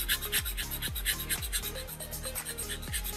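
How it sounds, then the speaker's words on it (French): A fingernail being filed while it is turned, giving a quiet, close, rhythmic rasping of the file, with repeated strokes about twice a second and no talk. "je tourne mon ongle, voilà, on lime tout en tournant"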